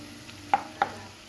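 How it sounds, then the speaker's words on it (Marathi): Pav bhaji masala being stirred in a little oil, giving a faint low sizzle marked by two quick utensil taps in close succession against the pan, with no talking. "असं थोडंसं तेल सुटेपर्यंत थोडं मिक्स करायचं."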